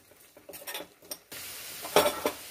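Ingredients for carrot halwa fry on low flame in a pan, giving soft bursts of sizzle and stirring scrapes, with a louder, steadier hiss in the second half.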